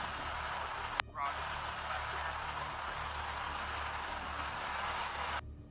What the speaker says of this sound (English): Airplane noise, jeez.